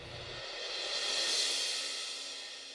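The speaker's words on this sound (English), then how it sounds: "record the drummer playing a bunch of cymbal swells" A cymbal swell rises from a soft shimmer to a bright, washy peak and then slowly fades, heard alone.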